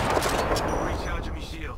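Gunfire rattles in a shooter video game, a dense, loud burst of shots and explosive noise over voices speaking.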